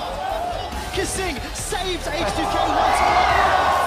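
A large arena crowd at a League of Legends esports match cheers and roars, swelling louder toward the end beneath an excited commentator's voice.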